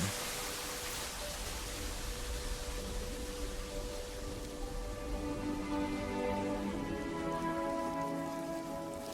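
Heavy monsoon rain in the video game Jurassic World Evolution pours down steadily, a dense hiss of drops on foliage and ground with no voices, even and unbroken throughout.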